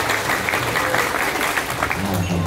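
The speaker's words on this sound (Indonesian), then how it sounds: "Tepuk tangan untuk bangsa dulu." Audience applause at an Islamic religious gathering, dense steady clapping from a crowd throughout, fairly loud with a faint murmur underneath.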